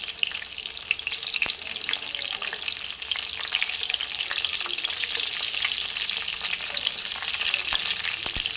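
Oil, garlic and coriander sizzle steadily in a pan for gongura pickle, a loud continuous crackling fry with occasional stirring clicks and no voices.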